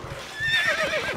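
A horse in the Stronghold Crusader video game gives a short, clear whinny over soft clip-clopping hoofbeats, close and loud with no talk.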